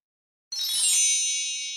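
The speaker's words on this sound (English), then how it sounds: "So we've got a magic wand sound." A magic wand sound effect fired from a streaming hotkey during a fitness class setup: a sudden bright shimmering chime with sparkly twinkles that rings on and slowly fades, heard alone.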